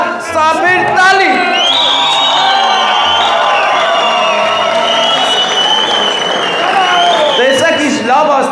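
Wedding guests at a lavish Armenian celebration in Vanadzor applauding the groom's side, a dense, loud wall of clapping with whoops and shouts from the crowd throughout, with voices calling out over it.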